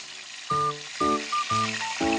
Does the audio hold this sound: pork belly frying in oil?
yes